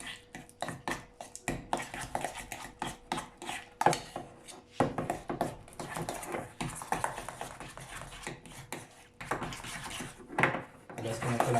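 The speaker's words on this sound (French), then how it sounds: "On l'écrase gentiment avec une fourchette" Softened butter being mashed with a fork, a run of irregular soft scraping and tapping strokes against a bowl, close and moderately quiet, with a voice talking over parts of it.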